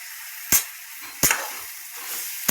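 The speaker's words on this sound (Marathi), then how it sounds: "चांगलं मसाला चांगलं भाजू द्यायचं बघा" Masala roasting in a pan gives a soft, steady hiss that is broken by three sharp, loud knocks or taps spaced roughly evenly apart, close by, with no voices.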